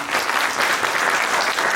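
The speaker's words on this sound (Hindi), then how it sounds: "इसके ऊपर ताली होनी चाहिए" Audience applause at an Indian panel discussion on research and innovation, a dense steady clapping from a crowd filling the whole short stretch with no talk over it.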